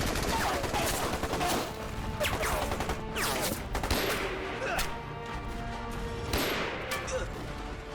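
In a wartime action film battle against Japanese forces, a Czech-type light machine gun rattles alongside sharp shots from a Mauser pistol. The bursts and single cracks come in quick, uneven volleys, loud and close.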